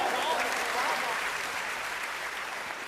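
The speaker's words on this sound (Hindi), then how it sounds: "एक बार तालियां बजाकर बिना भूमिका के जोरदार तालियों से एक बार फिर दोबारा।" Audience at a Hindi kavi sammelan poetry recital breaks into loud, sustained applause, a dense wash of clapping that holds steady for about three seconds before easing slightly.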